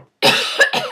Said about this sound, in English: it just makes me cough